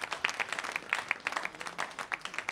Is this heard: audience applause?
yes